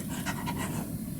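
A person imitates a panting dog with a few quick, breathy huffs in a steady rhythm, close and moderately loud over a low background hum.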